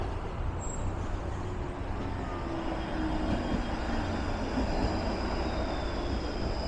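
A streetcar rolls along Queens Quay on Toronto's waterfront on a warm evening, a steady low rumble with faint high rail whine, continuous and fairly near throughout, with no talking.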